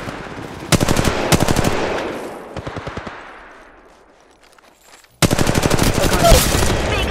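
Automatic weapon fire in the mobile shooter Apex Legends Mobile: loud rapid bursts near the start, a shorter burst around three seconds, then a long sustained stream of shots after a quiet gap.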